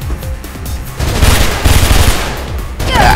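Rapid automatic gunfire in Mirror's Edge, loud close bursts of rattling shots in two clusters over a dense action-game background, with no talking.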